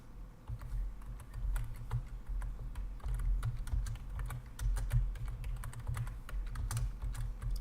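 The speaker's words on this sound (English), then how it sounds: "Take me a few minutes, so I'm going to be typing" Fingers type steadily on a computer keyboard, a close, continuous patter of quick key clicks with irregular bursts and a low background hum, alone without speech.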